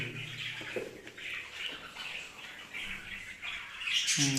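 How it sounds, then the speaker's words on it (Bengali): Pet birds kept indoors give repeated faint squawks and chirps inside a room, scattered calls rising over a quiet background, with a louder burst of chattering at the end. "রুমের মধ্যে পাখি পালি তো অনেক সমস্যা শব্দের কারণে ঘুমাইতে একটু সমস্যা"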